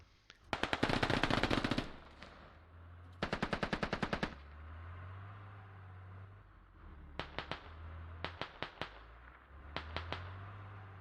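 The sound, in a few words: machine gun fire in the video game Squad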